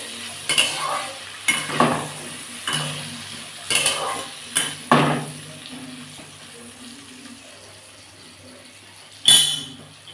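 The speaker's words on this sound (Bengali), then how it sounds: "এর মধ্যে আমি একটু হলুদ দিয়ে দেবো দিয়ে পটলগুলোকে ভালো করে ভেজে নেবো" Pointed gourd fries with turmeric in a pan while being stirred, the utensil scraping in sharp, repeated strokes over a soft background sizzle, with a final louder stir after a quiet stretch.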